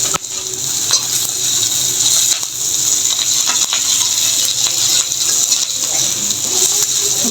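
Onions frying in a pan for a bottle gourd curry, giving a steady, loud broadband sizzle throughout with faint scraping clicks from stirring and no talk.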